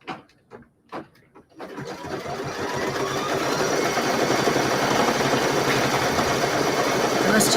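An embroidery sewing machine stitches a mini quilt, starting up after a few short bursts of talk and then running steadily, with a close, continuous rapid needle chatter and motor hum through to the end.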